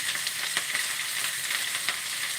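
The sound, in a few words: onions frying with mustard seeds, cumin and curry leaves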